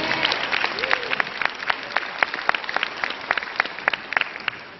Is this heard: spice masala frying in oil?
no